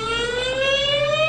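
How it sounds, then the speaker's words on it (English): Warning siren on Guam, one of fifteen in low-lying coastal areas meant to alert the public to an imminent missile threat: a loud, steady, slowly rising wail with strong harmonics, sounding alone. "These 15 sirens, all at low-lying areas, would warn the public of an imminent threat"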